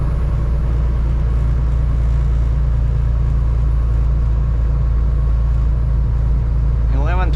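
Truck engine pulling in fifth gear low, a loud, steady low-pitched drone and rumble throughout, with a brief voice near the end.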